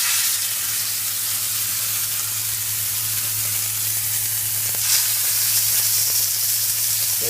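A thick piece of fish fries in hot oil in a pan, giving a loud, steady sizzle and hiss that carries on with no break.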